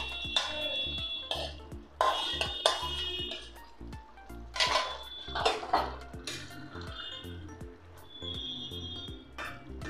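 Eggs and paneer go into a pan of masala for a dalna curry, with repeated metallic clinks and knocks of a spoon against the pot, soft squishes and scrapes in between, close by.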